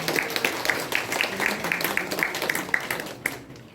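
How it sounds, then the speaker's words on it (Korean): An audience applauds at the opening of a Korean literary forum marking the 100th anniversary of Han Yong-un's poetry collection The Silence of Love, dense steady clapping filling a hall for several seconds before fading out. "큰 박수로 시작하겠습니다."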